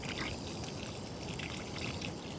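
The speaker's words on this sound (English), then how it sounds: "Let's water this in and get it in our quarantine spot." Water pours steadily into a potted pepper plant's soil, a continuous close trickle running for a couple of seconds with no talk.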